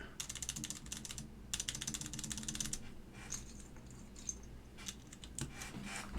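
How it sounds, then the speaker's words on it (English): Keycaps are pressed onto a mechanical keyboard built with Alps SKCM Cream switches, producing quiet, dense clicks and clacks in irregular bursts, with a faint voice in the background. "Put this keycap on it."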